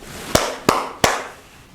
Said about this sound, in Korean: 이렇게 박수를 쳤다면 무슨 뜻일까?